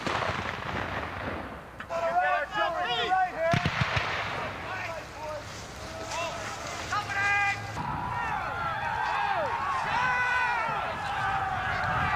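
Civil War reenactment cannons fire canister shot in heavy booming blasts across an open field, amid shouted commands and crowd voices.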